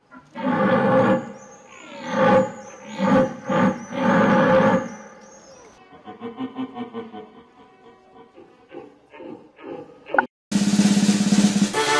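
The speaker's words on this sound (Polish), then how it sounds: "Brawo, to jeleń." A deer gives a series of loud, hoarse, drawn-out harmonic bellows, followed by softer rasping calls and then an abrupt burst of other noise.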